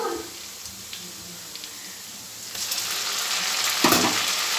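Ginger-garlic-chili paste hits hot oil with fried onions for ghugni, sizzling softly at first, then a louder burst of frying crackle with a few stirring scrapes near the end.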